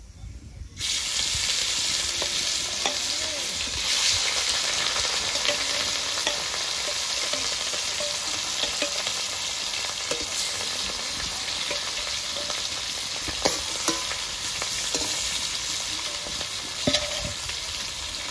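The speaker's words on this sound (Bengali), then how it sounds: "বাকি মাছগুলো এভাবে ভেজে নেব।" Steady loud sizzling of rohu fish frying in hot oil, a constant crackling hiss with occasional sharper pops and stirring scrapes, close by.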